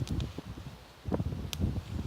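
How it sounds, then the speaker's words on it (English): Strong wind gusts blow across an outdoor spot among bracken where a fire is being lit, a rough, rushing roar with buffeting bursts and scattered rustles and knocks, steady and close. "Very, very windy out here."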